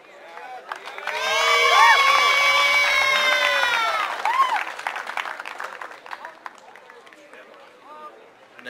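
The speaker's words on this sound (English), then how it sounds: "also give a round of applause for Cadet Sergeant Major Elias from 1st Squadron" A cadet drill competition crowd bursts into loud cheering, high whistles and shouts, swelling over a couple of seconds, then breaks into scattered clapping that gradually fades.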